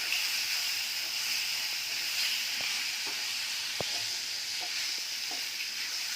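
Fish frying in a spice paste of chili, onion, garlic and cumin with salt and turmeric gives a steady, even sizzle, with a few sharp pops and clinks from the pan along the way.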